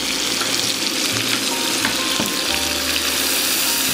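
Salted onions frying in a pot as the base for a Transylvanian lamb stew, giving a loud, dense, continuous sizzle with a few soft stirring knocks, close up and without voices.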